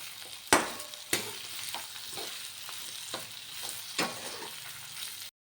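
Bitter gourd sautéing in a pan with salt, a steady sizzle throughout broken by several sharp scrape-and-stir knocks of a spoon against the pan.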